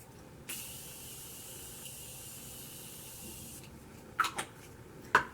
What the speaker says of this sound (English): I'm going to go in with the Morphe Continuous Setting Mist